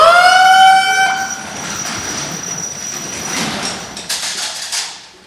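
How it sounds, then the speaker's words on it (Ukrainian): A training alarm siren at a fire station in Lutsk, Ukraine, opens with a loud, clear wailing tone that soon fades into a broad, noisy hiss, with no voices. "Навчальний сигнал тривоги у Луцькій пожежній частині."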